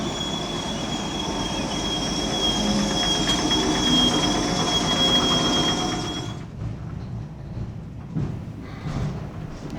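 A train of newly refurbished cars on the Johnsonville line runs close by, with steady rolling rumble and high wheel squeal for about six seconds before the noise drops to a quieter, fainter rumble.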